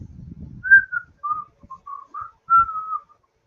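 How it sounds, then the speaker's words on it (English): Someone whistles a short tune for a name-that-tune game, a few clear melodic notes close by, with soft low rumbling at the start. "it's time for a whistling concert"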